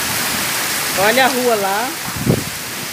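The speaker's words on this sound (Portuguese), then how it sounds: "Mas olha a chuva," Heavy rain pours down during a thunderstorm in Itapura, São Paulo, a dense, steady hiss filling the background while someone speaks briefly over it.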